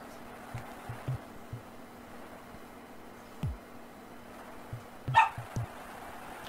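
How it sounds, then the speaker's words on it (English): A dog barks in the background, a handful of short, muffled barks scattered through the clip, some in quick pairs, set against a quiet indoor hum. "If you hear any dogs barking in the background, it is Luna."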